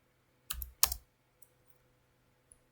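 A couple of close, heavy keystrokes on a computer keyboard while entering router configuration commands, followed by a few faint scattered taps in a quiet room.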